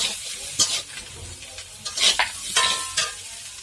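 A spoon scrapes and clacks against a pan in irregular strokes as fried cumin and garam masala are stirred. A soft sizzle runs underneath the close, intermittent scraping.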